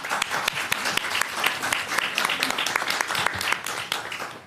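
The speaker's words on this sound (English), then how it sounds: "You can clap for that." Applause at a New York City mayoral press event on neighborhood rat reduction: a small group clapping with distinct, sharp individual claps, fairly close and sustained for several seconds.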